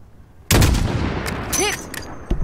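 A single sniper rifle shot in Modern Warfare (2019) cracks out loud and close, then trails into a long rolling echo with faint chirps afterward.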